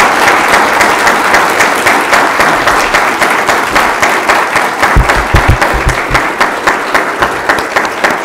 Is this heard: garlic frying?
no